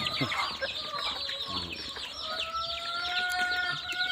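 Backyard domestic chickens cluck and chirp steadily while pecking at feed, with scattered bird calls, a soft rooster-like note and chicks peeping, all fairly close and continuous with no talk.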